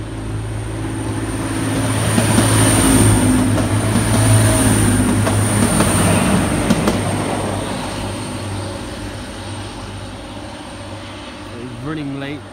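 A Class 185 TransPennine Express diesel unit passes through Lancaster station on the West Coast Main Line, a loud rumbling engine drone with rail noise that builds, holds, then slowly fades as the train moves away.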